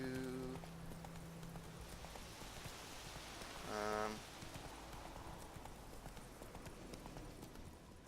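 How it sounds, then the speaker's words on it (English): Horse hooves clip-clop steadily on a road in The Witcher 3: Wild Hunt, a continuous galloping rhythm under rain-like ambience with a brief neigh midway. "Riding my horse on the road again."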